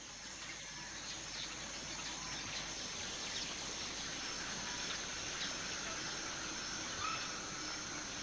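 Coqui frogs calling at night in the El Yunque rainforest, a steady dense chorus of high chirps layered over a constant hiss of insects and night ambience, even and unbroken throughout.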